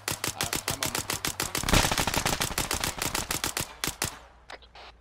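Rapid bursts of automatic gunfire in the military video game Arma 3, dozens of sharp close shots in fast rhythm, briefly easing and then stopping near the end.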